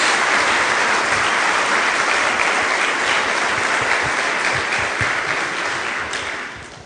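A church congregation applauds during a worship service, a dense, loud wash of many hands clapping that carries steadily for several seconds before tapering slightly at the end.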